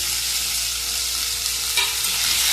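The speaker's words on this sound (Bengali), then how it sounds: "একসাথেই ভেজে নেব।" Onions, tomatoes and green chillies frying together in a pan for a dhaba-style egg bhujia, giving a steady, close hiss and sizzle with a faint stir partway through and no talk.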